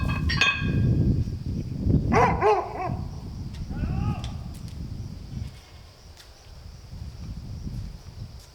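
A dog barks in a few sharp yaps near a beach, with goats bleating in between and a voice talking faintly underneath, outdoors with steady background noise.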